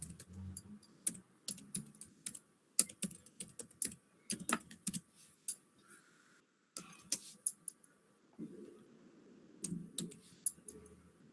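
Java code being typed on a computer keyboard, with irregular clusters of close, crisp key clicks separated by short pauses, running for about eleven seconds with no talk.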